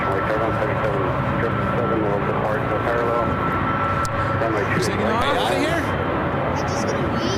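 A 777 jet airliner takes off from runway 28 left at San Francisco International Airport, its steady loud engine roar running throughout with air traffic radio chatter over it.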